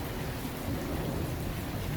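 A summer thunderstorm over the Saint-Henri sector of Montreal, Canada, with steady heavy rain and a rolling low rumble of thunder filling the short stretch without a break.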